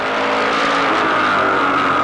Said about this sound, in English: Watch this racing up off the corner.